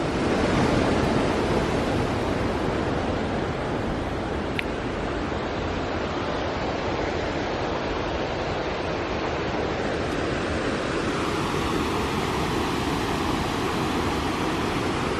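Steady rushing water fills the scene, a loud, unbroken flow of Tiger Creek beside a water mill, with no voices.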